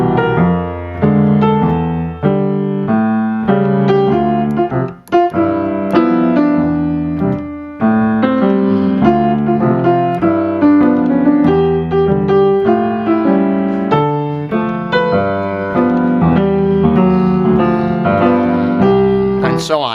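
Solo piano with a left hand striking wide tenths in a steady jazz rhythm, full chords bouncing under a lively right hand, close and loud with no talking.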